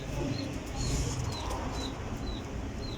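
Racing pigeons released in a flock, their soft cooing and light wing flutter continuous and fairly faint against steady outdoor background noise, with a few brief chirps scattered through.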